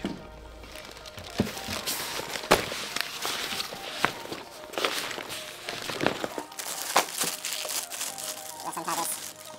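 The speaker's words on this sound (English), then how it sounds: "we'll see that the tripod comes wrapped in plastic" Plastic wrapping crinkles and crackles as a SmallRig AD-01 tripod is unwrapped, close and continuous, with irregular sharp rustles and handling knocks throughout.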